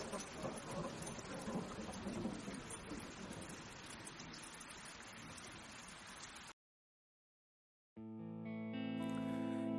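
An animated story opens with a dense, roaring downpour of heavy rain and thunder, steady and loud for several seconds before cutting to silence and then sustained musical tones.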